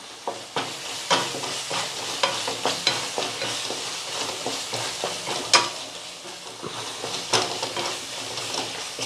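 Masala for potato bhaji being sautéed in a pan, with a spoon scraping and stirring in a steady rhythm over a soft sizzle, close and moderately loud, with no voices.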